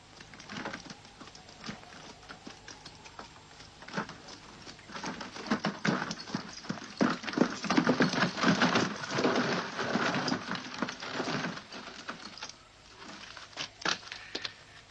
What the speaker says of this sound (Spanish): Prepara los caballos, Simón